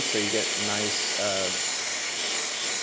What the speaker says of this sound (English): we're going to test the steam, because testing hot water first will drain the boiler